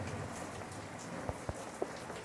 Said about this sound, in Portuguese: aquela chuva que vem de tarde depois de você passar o dia todo esticando a tela BIDIN em cima do telhado